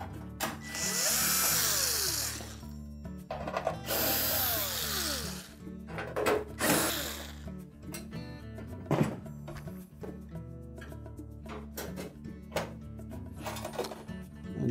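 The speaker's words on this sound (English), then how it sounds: "remove the screws that secure that to the cabinet" Power drill whirring in repeated bursts while removing screws from the upper back panel of a Frigidaire electric range, with metallic clinks of screws and panel handling between runs; close and fairly loud, no talk.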